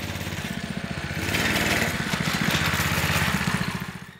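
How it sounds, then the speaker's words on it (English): Predator 212cc go-kart engines roar in a drag race, a steady buzzing small-engine drone that swells louder midway and holds at high revs, close by with no talk. "All right, let's do a drag race and then let's make some power."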